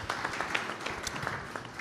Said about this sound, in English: Please, a round of applause for Patience